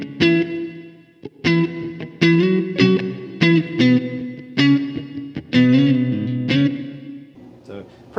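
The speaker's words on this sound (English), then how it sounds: "Here's the room reverb really quick, kind of maxed out" Electric guitar played through a Donner Cyclops amp with the room reverb turned all the way up: strummed chords and single notes ring out with a long, washy tail between hits, loud and close.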